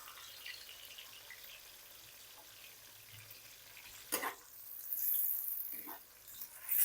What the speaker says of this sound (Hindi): तो ये जो प्याज मैंने स्लाइस में काटे थे, प्याज को मैं ब्राउन कर लूँगा।